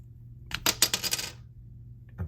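A small flathead screwdriver pries the top metal piece off a Mazda CX-9 remote key fob, giving a quick cluster of close, crisp metallic clicks and scrapes, then a lone faint click after a short pause.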